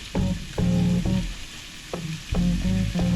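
Corned beef is stirred together with mince, garlic and onions in a pan for Maltese baked pasta, with a hissing fry under repeated bursts of spoon scraping and clanking against the pan.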